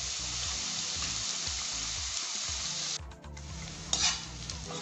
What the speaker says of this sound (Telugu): ఉల్లిపాయ ఫ్రై అయ్యింది